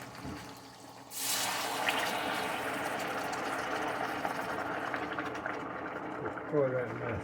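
Hot water from a cup poured into a skillet in a home kitchen, a sudden rushing splash that settles into a steady hiss and bubbling, fading toward the end with a clink near the close.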